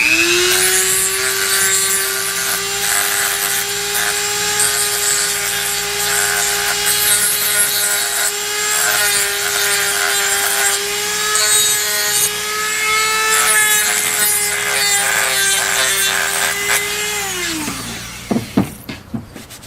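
A power tool roughs up hard, dense wooden 1911 pistol grips with a loud, steady motor whine and gritty abrasion. The whine holds for most of the stretch, then winds down and ends in a few sharp knocks.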